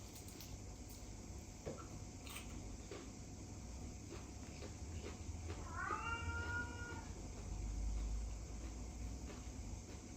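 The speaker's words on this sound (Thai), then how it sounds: "เสียงน้องเหมียวเรียกแม่" A cat gives a drawn-out meow partway through, heard against a steady low hum and faint background clatter.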